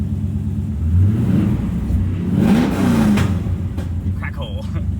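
A Pontiac Trans Am engine runs close by with a steady low rumble, swelling twice as it is revved before easing back, while a voice speaks briefly.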